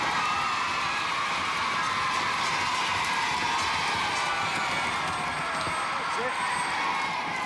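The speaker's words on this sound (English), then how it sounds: "Nice round of applause for Mr. Michael Bateson and his 16." A children's game-show studio audience gives a round of applause with cheering and whoops, a dense, steady wash of clapping and crowd noise throughout.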